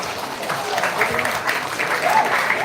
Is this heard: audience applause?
yes